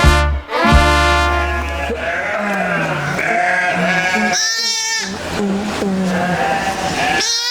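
Several goats and sheep bleat nearby, overlapping wavering cries one after another, loud and close with a brief low rumble at the start.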